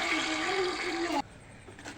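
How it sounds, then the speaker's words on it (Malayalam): Water pours into a cooking pot of hot ghee and oil with cardamom for ghee rice, a strong rushing gush that stops abruptly partway through, leaving a quieter trickle and faint noise. "ഇതിലേക്ക് വെള്ളം ഒഴിച്ച് കൊടുത്തിട്ട്"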